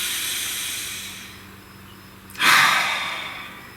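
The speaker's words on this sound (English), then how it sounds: "Take a nice deep breath" A single deep breath drawn in close to the microphone, a soft airy inhale rising sharply then easing into a long breathy exhale, heard alone in a quiet room.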